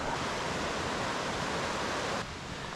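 A creek flows beside a backcountry campsite as a steady, close, broadband rush of water that continues throughout and drops slightly in level near the end, with no voices.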